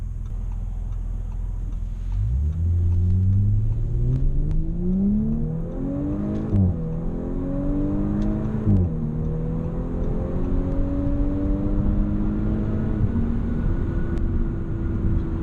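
A 2018 Audi S5 Sportback accelerates from low speed, its engine note climbing smoothly through several upshifts. Each gear change briefly dips the pitch before it rises again. The engine sounds moderately loud from inside the cabin, and a steady ticking runs underneath.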